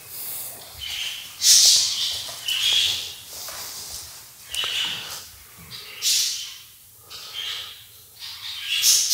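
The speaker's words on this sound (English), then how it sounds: "Birds are up early this morning." Birds call and chirp outdoors in the early morning, bursts of shrill song rising and falling every second or two, fairly close and loud against a quiet, low background.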